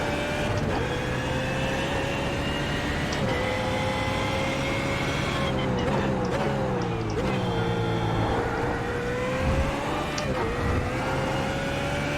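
A GT3 race car in iRacing screams through the gears, its high engine whine rising, dropping with quick shifts and climbing again in a loud, continuous drive with no one speaking.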